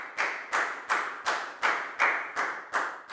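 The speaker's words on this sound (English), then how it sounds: "High five and a big round of applause for Pat, please, guys." A class of students claps for a classmate in a primary school maths lesson, giving about eight sharp, evenly spaced claps in a steady unison rhythm, close and moderately loud.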